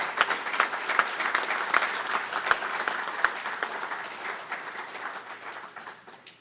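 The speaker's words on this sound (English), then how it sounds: "I now ask for a collective round of applause for all validating" An audience at a ceremony claps in sustained applause, sharp individual claps standing out at first before the sound thins and fades toward the end.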